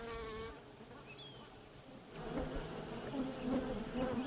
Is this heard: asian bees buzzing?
yes